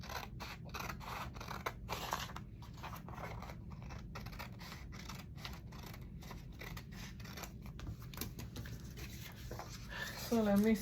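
Paper being cut with scissors for a folded gift tag, a run of close, steady snipping and scraping strokes over a low background hum, with a brief louder rustle near the end.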